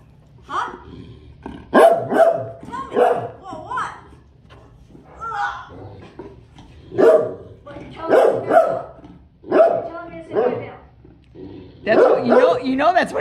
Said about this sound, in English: Is there a reason why you're barking at me?